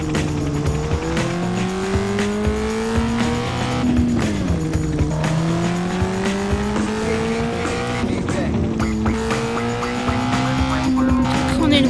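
A car weaves back and forth in Gangstar IV, its engine droning with rising and falling pitch while tires squeal and skid, loud and close, with someone talking throughout.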